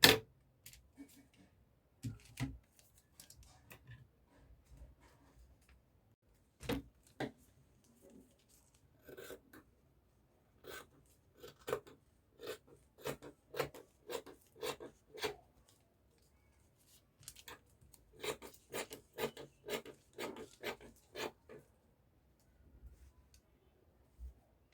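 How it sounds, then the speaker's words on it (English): Scissors cutting fabric for a shoulder-tie cowl neck gown, heard as faint, intermittent snips and rustles that come in short clusters of quick strokes with quiet gaps between them. "And I'm going to cut out the sides too."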